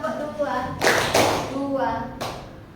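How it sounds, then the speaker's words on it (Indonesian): Junior high science students in a classroom clap together in a rhythm drill: two sharp unison claps close together, then a single clap, while a teacher's voice talks between them. "Sekali lagi, tepuk 2,"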